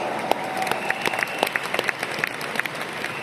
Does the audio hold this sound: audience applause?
yes